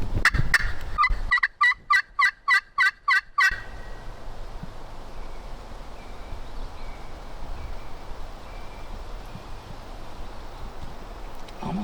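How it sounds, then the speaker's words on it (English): A wild turkey gobbles during a Louisiana hunt, a fast stuttering burst of rattling calls carrying loudly over open ground, followed by a quiet outdoor wash of wind and faint rustling. "Yep, he just gobbled."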